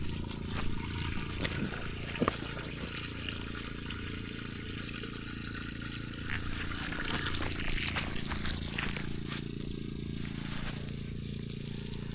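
Water trickling weakly through a septic system pipe at a rotting cabin, a steady faint pour and dribble that runs the whole time, with occasional knocks and a voice now and then.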